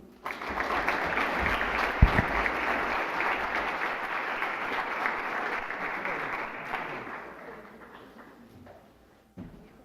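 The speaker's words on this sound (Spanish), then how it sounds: "recibamos con un fuerte aplauso" Applause from an audience in a wide auditorium at a national volunteering forum, welcoming a professor to the stage: dense, sustained clapping with a sharp thump near the start, gradually thinning toward the end.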